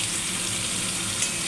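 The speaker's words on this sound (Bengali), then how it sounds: "ফুলকপিগুলো আমি এক এক করে ভেজে নেব।" Cauliflower pieces fry in hot oil in a home kitchen, producing a continuous, even sizzle and crackle at close range, with no talking.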